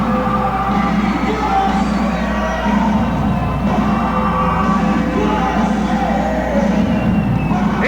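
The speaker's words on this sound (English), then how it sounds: "certainly this tremendous crowd here at the Tulsa Convention Center" A large wrestling arena crowd at the Tulsa Convention Center cheers, yells and whoops loudly and continuously, a dense roar of voices filling the hall with surges of shouting.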